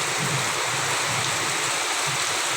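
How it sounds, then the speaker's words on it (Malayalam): Heavy rain and rushing water make a dense, continuous roar, steady and loud throughout with no pauses. "ഭയങ്കര മഴയാണ്. ഞങ്ങളുടെ വെള്ളം ഒഴുകി വരുന്നുണ്ടോ?"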